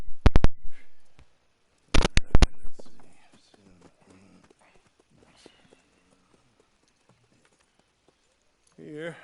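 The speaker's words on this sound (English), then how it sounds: "And a fine new horse." A horse's hooves clip-clop in Red Dead Redemption 2 in two brief, crisp bursts of quick steps, followed by near silence and a faint sound at the end.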